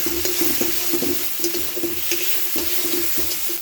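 Onion, garlic, tomato and green chili pastes sautéing in a pan for a cauliflower and potato curry, with steady sizzling and rhythmic scraping strokes of a spatula stirring, close and constant.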